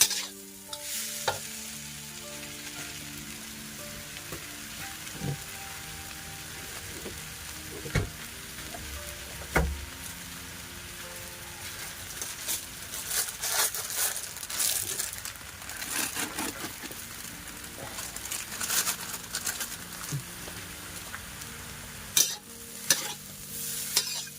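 Mama instant noodles stir-fried with shrimp and sugar in a pan for lunch, a steady sizzle with scraping and stirring clatter throughout, occasional sharp utensil knocks, and no talk.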